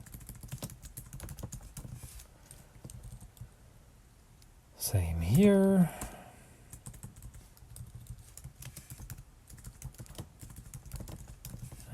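Steady computer keyboard typing while coding an MS-DOS program, soft rapid key clicks running through the clip, with a brief burst of speech in the middle.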